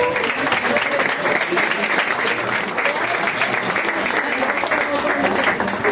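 Sustained applause from a concert audience for a guitarist at a Three Kings' Day concert, dense and steady throughout, with some voices mixed into the clapping.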